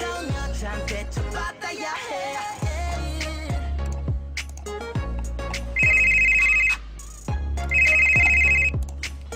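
A mobile phone ringtone sounds for incoming calls, a looping electronic melody with repeated bright ringing bursts, loud and steady throughout.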